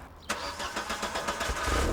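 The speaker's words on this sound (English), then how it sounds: "It's got a hole in the exhaust, Damien." A car engine with a hole in its aftermarket exhaust runs loudly with a rough, sputtering exhaust rumble that starts abruptly and keeps going steadily.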